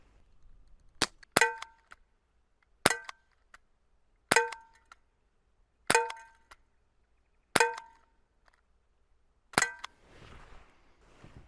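Shots from a KWC M-11 airsoft or air pistol ring out against a metal target, seven sharp metallic clangs spaced irregularly about a second or two apart, each with a brief ringing tail, in an otherwise quiet setting.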